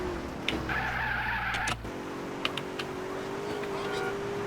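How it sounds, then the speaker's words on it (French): Car brakes squealing in the video game GTA San Andreas, a sustained high-pitched whine over engine rumble that cuts off abruptly, followed by lighter driving noise and short clicks. "Je peux pas blairer ce bruit de frein."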